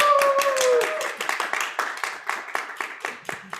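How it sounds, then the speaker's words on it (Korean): A church youth congregation claps in welcome for a visiting pastor at a winter retreat, a dense burst of clapping that thins into scattered, distinct claps toward the end, fairly close. "여러분 우리 환영의 박수로 우리 목사님 모시도록 하겠습니다."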